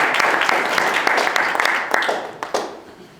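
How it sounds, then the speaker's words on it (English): Audience applause for a Toastmasters club speaker: a burst of clapping from a modest crowd of listeners, fairly close and loud, with a few sharper individual claps standing out as it fades toward the end. "could you please give him a resounding round of applause?"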